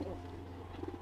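Racing pigeons in a loft, a hen among birds being driven hard in courtship, give soft repeated coos over a low steady hum, with quiet voices in the background.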